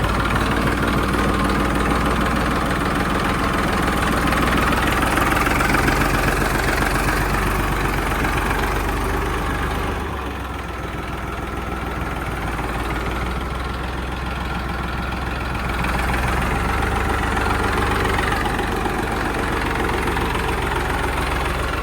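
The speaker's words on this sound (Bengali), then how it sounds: "ইঞ্জিন সাউন্ড সব চেক করবো। স্টার্ট হবে তো ভাই?" An Eicher tractor engine idles steadily with a low, rumbling diesel throb and vibration, dipping slightly in the middle before resuming at an even, continuous level, with no talk over it.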